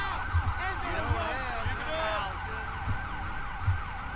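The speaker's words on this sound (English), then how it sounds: "Let me turn off my siren." Police car siren wailing in repeated rising and falling sweeps at a steady mid distance, with a low rhythmic thumping underneath and someone talking over it.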